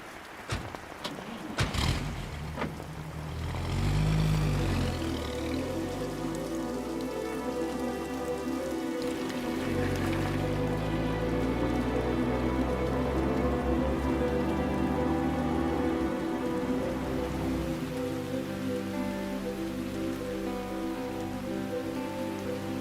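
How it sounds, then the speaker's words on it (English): Heavy rain falls steadily on a rural farm, a dense continuous wash that swells after a few seconds and holds loud throughout, with a low rumbling undertone and no talk. "When the weather didn't let up, Pappy got concerned that the rain would swell the river"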